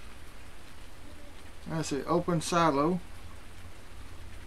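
Steady rain falling in Farming Simulator 19 on the Sosnovka map, a constant soft hiss running throughout, with someone talking over it briefly in the middle.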